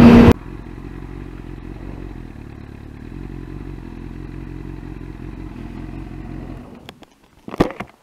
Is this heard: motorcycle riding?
yes